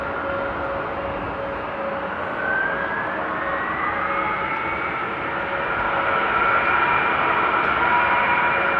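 A United 76 airliner taxiing at Amsterdam Airport in the rain, a loud steady jet engine whine and roar with shifting tones that swells slightly toward the end.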